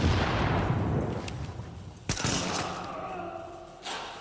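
Gunshots in the video game Tom Clancy's The Division, a few sharp separate shots over dense game noise, one loud near crack midway and another fainter one near the end.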